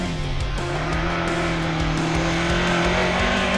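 A Ford Escort rally car on a stage at the WNRC Ermelo rally roars past nearby, its engine note rising and falling through a chicane with tyre squeal, loud and continuous with no talking.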